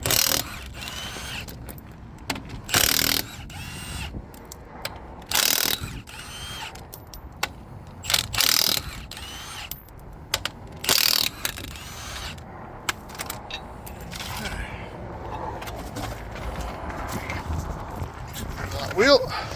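A wheel comes off the passenger side of a Renault Master horsebox as a power tool fires several loud, short bursts, with clanks and mechanical rattles in between and someone talking throughout.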